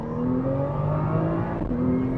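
A high-mileage Nissan R35 GT-R NISMO with a rebuilt transmission accelerates hard at high RPM. A rising engine whine breaks off once partway through for a quick gear change, then climbs again, heard from inside the car.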